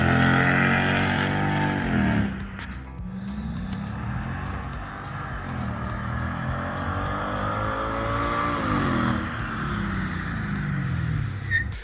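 A Mercedes C55 AMG engine with modified MAF sensor vanes runs and revs, its pitch rising and falling in steady sweeps with a short dip near two seconds, loud and close with no talking.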